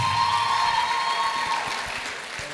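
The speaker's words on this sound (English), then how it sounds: "Can you please give yourselves another round of applause, please?" A hall audience at the LEAD Conference 2018 at Bowen University claps to welcome a speaker, a dense, steady wash of applause that carries on throughout and eases off slightly toward the end.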